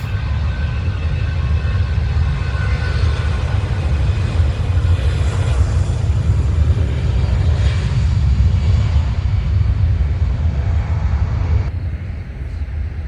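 An aircraft taking off at London Heathrow produces a loud, sustained low engine roar that holds steady and eases slightly near the end.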